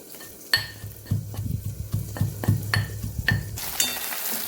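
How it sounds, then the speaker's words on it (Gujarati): Garlic with a spoonful of red chili powder sautéing in a pan, a soft sizzle under repeated stirring and scraping taps of a utensil against the pan, close by, with no talking. "લસણ સદાઈ ગયું છે તેમાં આપણે એક ચમચી લાલ મરચું પાવડર નાખશું"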